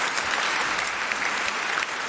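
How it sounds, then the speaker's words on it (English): A debate audience applauds after a speech, a dense, even wash of many hands clapping at once, steady and fairly close throughout the short burst. "A round of applause."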